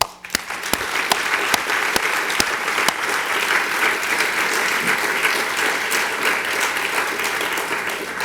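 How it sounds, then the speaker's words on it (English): An audience applauds CREST Award winners at a 2005 ceremony, with loud, sustained clapping from a full room, some sharp individual claps at the start, and no talk. "Let's give another round of applause to all the CREST Award"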